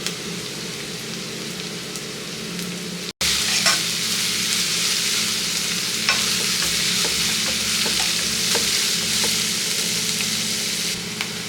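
Chopped capsicum fries in a pan with a loud, continuous sizzle. Scraping and stirring noises keep breaking through, and there is one brief silent break early on.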